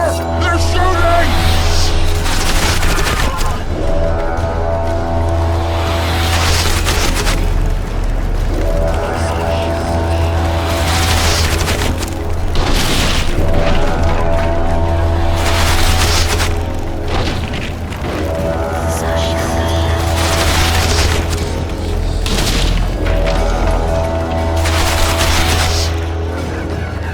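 Loud booms and bursts of gunfire echo through a battle scene in The Witcher 2: Assassins of Kings, several heavy blasts rolling over a constant low rumble, with some speech mixed in.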